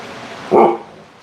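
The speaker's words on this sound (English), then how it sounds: "You say woof? I know, you're a woof." A dog in a workshop gives one short, loud bark that rises sharply above steady background noise, heard close by and alone.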